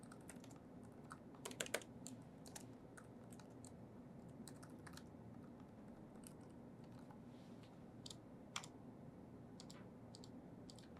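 Typing on a computer keyboard, faint, quick irregular clicks and occasional louder key taps over a low background hum, with no talk.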